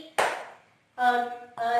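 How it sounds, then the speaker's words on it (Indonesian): A classroom of students gives one sharp, unison clap during an ice-breaker game, followed by voices speaking up moments later. "Kalau Ibu bilang pagi, kalian tepuk 1 kali"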